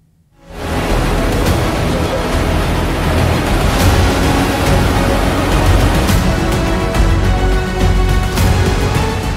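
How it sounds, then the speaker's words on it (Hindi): A fast-flowing river in flood in Haryana, with a truck stuck midstream, roars as a loud, steady wash of rushing water from start to finish. "नदी के तेज बहाव के बीचों बीच ट्रक फंस गया।"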